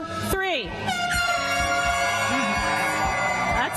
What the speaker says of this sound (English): all of you with air horns out there, one more time on 3.